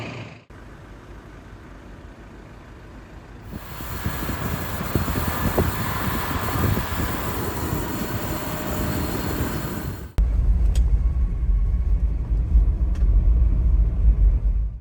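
A fifth-generation Subaru Forester rolls downhill on a mountain pass road, its low rumble of tyres and road noise steady and close, growing louder midway and then shifting to a deeper, heavier drone.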